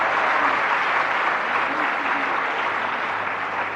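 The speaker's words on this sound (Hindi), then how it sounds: "तालियां बजाएं तो जमकर बजाएं" Steady applause from a congregation at a Jain sermon, a dense continuous wash of clapping held at an even level throughout.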